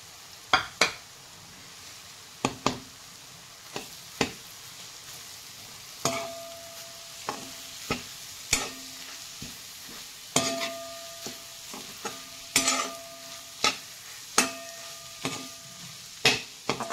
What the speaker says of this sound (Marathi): छान मिक्स करून घ्यायचं आहे. छान अशी भुर्जी